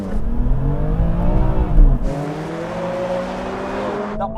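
An Audi R8 launches hard off the line in a drag race, engine roaring loud and close with rising revs that climb through gear changes, then settle into a steady high-pitched drone as it pulls away.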